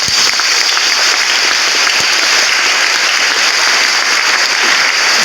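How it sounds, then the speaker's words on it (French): A church congregation applauds during a French-language Pentecost preparation gathering, a loud, continuous wash of clapping that holds at a steady level throughout with no break. "Applaudissez pour les renouveaux charismatiques."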